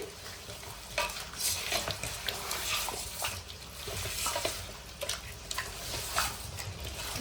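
Mutton biryani ingredients fry in a large amount of oil while being stirred, a continuous loud sizzle with repeated scraping and clattering strokes of the spoon, close up and without speech.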